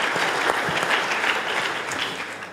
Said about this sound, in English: We should give the Chamber a round of applause